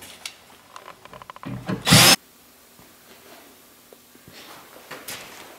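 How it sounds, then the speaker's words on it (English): A power drill drives screws into wooden wall framing in a short close burst after some light rubbing and tapping. Quieter scraping and knocking follow. "screwing all these in"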